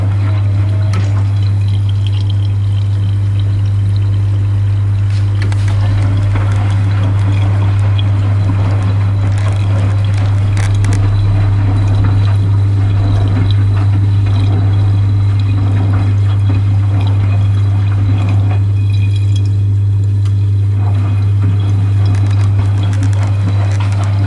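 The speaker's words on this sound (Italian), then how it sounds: "dopo in base all'assorbimento della biancheria, fai carico dell'acqua definitivo" Miele Softtronic W406 washing machine on a 60° cotton cycle filling with water, a continuous rushing pour over a strong steady mains hum, loud and close throughout.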